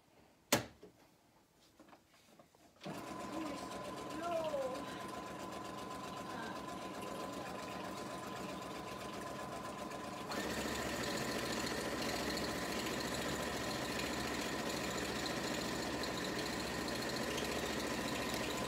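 Sewing machine stitching a pillow case starts up after a brief click and runs in a steady whirring hum, then picks up to a slightly louder, faster run for the rest.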